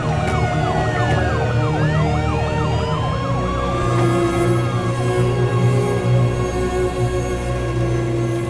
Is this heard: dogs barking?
no